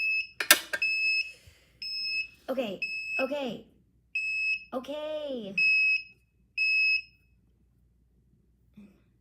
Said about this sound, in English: How do I make you stop beeping?